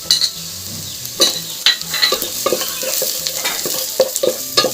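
Onions with garlic and ginger sizzle steadily in a hot pan for a Kerala prawn rice dish, with a spoon scraping and stirring in a few sharp clinks, close up and with no talking.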